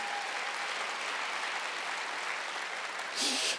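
Church congregation at a Wednesday worship service clapping together, a steady wash of applause under a preacher's voice, ending with a brief louder burst.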